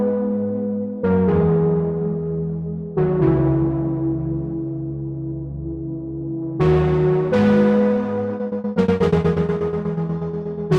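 Sustained Serum 2 synth pad chords swell and shift every few seconds, rich and layered with a soft bright shimmer, playing alone with no voices.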